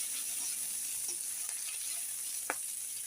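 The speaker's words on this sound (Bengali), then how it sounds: "একটা গোটা রসুন ভালোভাবে ভেজে নেব।" A whole garlic bulb and chilies fry in hot oil for a rohu fish curry, producing a steady, close sizzle with a brief light clink near the end.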